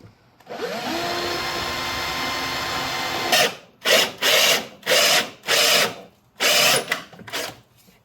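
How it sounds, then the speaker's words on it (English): A power drill whines continuously while boring at an angle into a 2004 Mustang GT's body during a battery relocation. It is followed by a series of short, close bursts with quiet gaps between them. "That's just how I like to drill at an angle."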